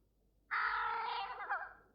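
A crow gives one long, strained, wavering call lasting about a second and a half, close and clear against a quiet background.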